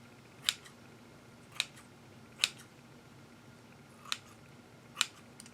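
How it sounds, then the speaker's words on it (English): Scissors snip around the edges of a handmade paper flower, with five crisp, separate cuts spaced about a second apart against a quiet background. "So we're just going to start clipping away on this one that we just did."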